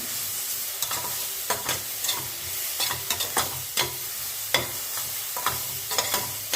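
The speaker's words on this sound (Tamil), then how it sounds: "கொஞ்சம் எண்ணெய் போட்டு வதக்கிக்கோங்க." Peas, cabbage and carrot sautéing in oil in a pan, a steady close sizzle punctuated by regular scraping stirs of a spoon against the pan.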